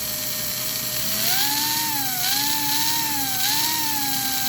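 A small electric motor of a late-1940s American Flyer toy train, run on 30 volts DC, whirs steadily, its pitch rising and wavering in gentle cycles like laps, close and unaccompanied.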